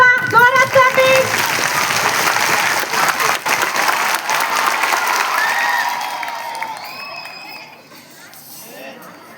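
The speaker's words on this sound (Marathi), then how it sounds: "स्वतःसाठी एकदा टाळ्या वाजवा. जोरात clapping." An audience at a street play against child marriage in Nashik breaks into loud, dense applause that starts strong, holds steady, then fades and thins toward the end.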